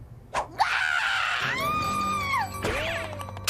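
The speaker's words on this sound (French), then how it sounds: "quand elles ont peur, les chèvres hurlent" A goat lets out loud, drawn-out screams, two long wavering cries with a short break between them.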